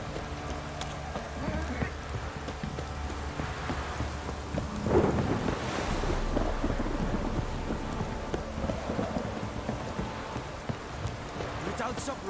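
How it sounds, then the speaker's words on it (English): Steady rain falls with rolling thunder in The Witcher 3 video game, a continuous downpour with a deeper rumble swelling midway, heard without speech. "If it don't stop raining"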